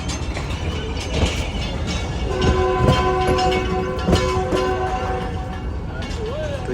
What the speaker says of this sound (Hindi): तो ये रवाना हो चुकी है हमारी ट्रेन।